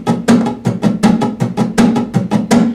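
Muted acoustic guitar strumming, the hand resting lightly on all six strings so they give deadened, percussive scratches, about a dozen quick even strokes in a steady rhythm, close and fairly loud with no voice.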